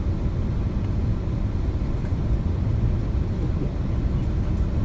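MD-11 thrust reversers roaring on landing in the X-Plane 11 flight simulator, a steady, loud broadband rush of engine noise with no letup.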